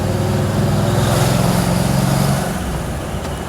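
A 1947 Ford Super Deluxe engine accelerates in second gear, a loud, steady rising drone with a throbbing low rumble that eases off near the end, heard close from inside the car.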